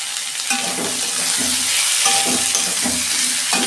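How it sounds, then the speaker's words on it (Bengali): Ridge gourd and potato frying in a pan for a vegetarian poppy-seed dish, a steady close sizzle with repeated scraping stirs roughly every half second to second, no talk. "এই যে আমার ভাজা ভাজা হয়েছে।"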